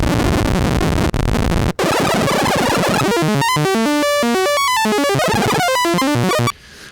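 A harsh, mechanical tone from an IK Multimedia UNO Synth Pro with fast sample-and-hold LFO modulation, jumping rapidly between random stepped pitches, loud and steady, verging on noise before cutting off abruptly.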